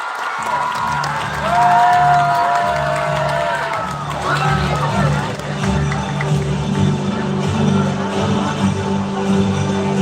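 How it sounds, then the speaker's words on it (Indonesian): A talk show audience claps and cheers loudly, while an announcer and music are audible over it and the applause carries on steadily throughout. "Kita sambut dengan tepuk tangan yang meriah."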